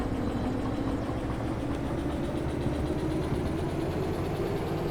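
A locomotive engine runs steadily in the Derail Valley train simulator game, a low, rumbling idle with a mechanical throb that stays even and moderately quiet throughout.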